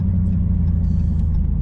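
A Dodge Charger Scat Pack's engine rumbles loud and deep from inside the car while it is being driven, a steady low drone throughout.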